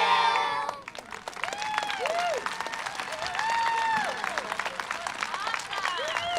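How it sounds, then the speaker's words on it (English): A crowd applauds steadily for several seconds at a 5th grade promotion ceremony, with scattered cheers and children's voices rising over the clapping. "Give them another round of applause."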